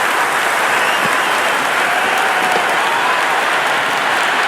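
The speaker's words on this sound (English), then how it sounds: "It's evident and ever so audible that the crowd is at near bursting point at today's play." Stadium crowd at an Indian Premier League cricket final between Royal Challengers Bengaluru and Gujarat Titans erupting for a six, a dense, loud wall of cheering and applause that holds steady throughout.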